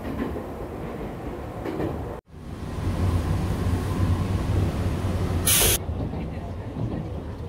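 Japanese local train running between Tahara and Toyohashi through farmland, a steady close interior rumble with a brief dropout and a short burst of hiss, under faint talk.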